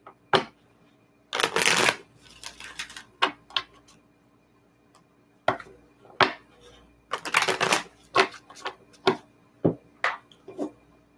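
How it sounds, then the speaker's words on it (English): A deck of reading cards being shuffled by hand in repeated bursts of riffling and snapping, close and crisp, separated by pauses and soft taps as the cards are squared. "I just wanted to shuffle these a little bit more."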